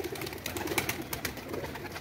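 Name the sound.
pigeons cooing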